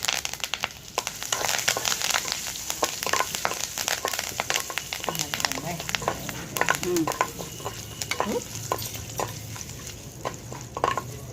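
Mustard seeds, spices and curry leaves crackle and sizzle in hot oil during tempering for a cucumber and coriander pachadi, a dense steady frying hiss with sharp pops and the scrape of stirring throughout.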